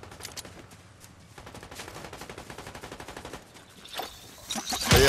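Rapid gunfire in the Fortnite battle royale video game, a dense stream of sharp shots in quick succession that grows louder and heavier toward the end, with no talking.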